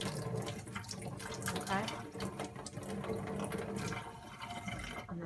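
A tap runs water over orchid roots, a continuous broad splashing that stays steady and close for several seconds, with someone briefly speaking over it.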